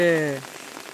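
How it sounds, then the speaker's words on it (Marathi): Heavy rain pours down outdoors in a steady broadband hiss during a rainy trip to a village temple. A brief voice-like tone sits over the start of this very short moment. "कसला पाऊस पडायला लागलाय."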